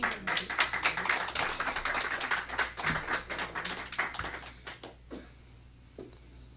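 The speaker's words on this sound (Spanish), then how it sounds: "Alabe a Cristo, denle un aplauso." Church congregation giving applause during a sermon, a dense burst of many hands clapping that swells, then thins and tapers into a few scattered claps before fading out.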